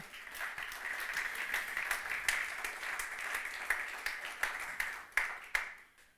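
A church congregation applauds for Jesus during a Sunday sermon, steady distant clapping from many hands with a few sharper claps standing out, fading at the end.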